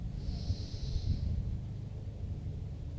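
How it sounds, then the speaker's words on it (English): During a qigong breathing exercise, one deep in-breath is drawn in slowly as a soft, airy hiss. It sits close to the listener over a low, steady rumble. "Last one, big in-breath"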